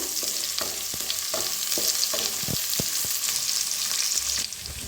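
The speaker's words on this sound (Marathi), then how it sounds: "2 हिरव्या मिरच्या कापून घेतल्या होत्या, छान भाजून घेऊया" Green chillies cut and roasting in a hot pan give off a steady, loud sizzle with repeated sharp scrapes and taps of a spatula stirring throughout.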